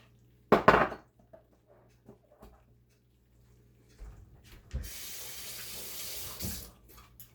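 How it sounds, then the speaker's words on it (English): Water runs from a kitchen tap into the sink as pasta is drained, with a loud clatter of a pot and dishes at the start, then a steady splashing stream for a few seconds. "Now I'm going to drain the pasta and rinse it off with cold water"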